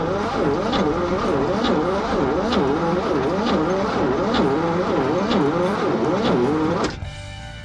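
A 1961 GMC truck engine, parked and seized for 35 years, cranks on a weak, nearly dead battery, the starter laboring in a slow, rhythmic churn for about seven seconds before it stops.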